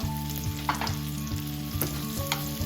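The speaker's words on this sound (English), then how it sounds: "So right now we're going to add our beef to the dish, like so" Beef goes into a pan of teriyaki sauce thickened with corn flour, giving a quiet, continuous sizzle broken by a few light stirring scrapes over a low steady hum.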